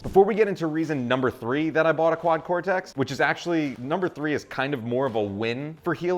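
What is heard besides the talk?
No everyday noise stands out behind the speech.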